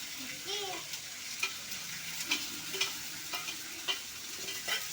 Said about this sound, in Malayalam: ഏതായാലും മുഴുവൻ തക്കാളി ആൾ ഇട്ടുണ്ട് ഇളക്ക്